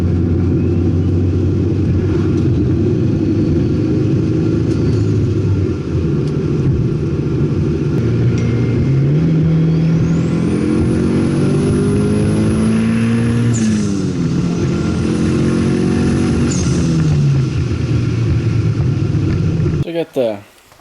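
A Mitsubishi Evo drives close by with a loud, steady engine rumble, its rising and falling revs sweeping up and down through the run before cutting off abruptly at the end.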